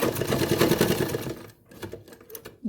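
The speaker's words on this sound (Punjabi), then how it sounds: "ਜੇ ਤੁਹਾਡੀ ਮਸ਼ੀਨ ਬੈਕ ਚੱਲਦੀ ਹੈ ਜਿਸ ਤਰ੍ਹਾਂ ਮੇਰੀ ਮਸ਼ੀਨ ਤੱਕ ਕਰਕੇ ਬੈਕ ਕਰਦੀ ਹੈ" A sewing machine back-stitches a salwar seam in reverse: a fast, loud, close rattling run of stitches that stops, followed by a few short, quieter bursts of stitching.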